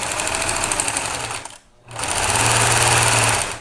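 Sewing machine stitching through thick layers of fabric with a heavier needle, a fast steady mechanical whir with a brief stop midway before resuming, close and loud.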